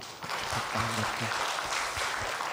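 Church congregation clapping during a Sunday service, a short burst of applause with a voice briefly audible underneath, moderately loud and fading slightly toward the end.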